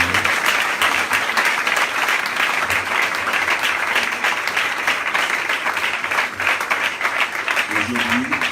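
A church congregation claps and applauds the Lord at a Pentecost service, with dense, steady applause and a voice or two carrying over it.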